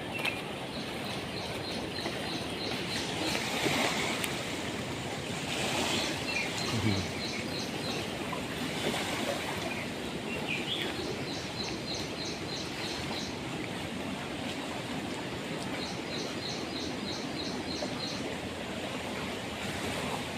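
Broad, steady roar of the flooded Kaveri River rushing near Srirangapatna, heard outdoors, with gusts of wind and repeated bird chirps over it.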